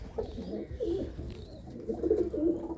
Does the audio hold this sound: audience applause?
no